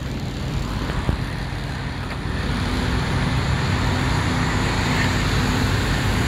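Heavy truck engines rumble steadily nearby at a truck stop, a constant low drone of idling trucks filling the air with no break.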